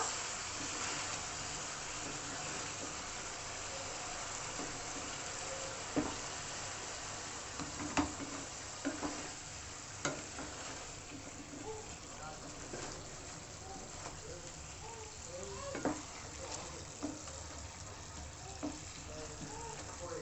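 Spiced masala sautéing in oil until the oil separates, a continuous soft sizzle with occasional stirring clinks and scrapes, while a voice talks over it at times.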